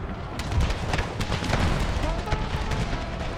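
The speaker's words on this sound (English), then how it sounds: "Howitzers are doing everything they can." Howitzer artillery fire in an American Civil War battle in the game Empire: Total War, heard as a dense run of heavy booms and sharp reports that overlap in quick succession.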